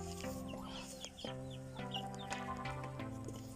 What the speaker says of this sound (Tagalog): Ito yung mga manok ka naman ni Papa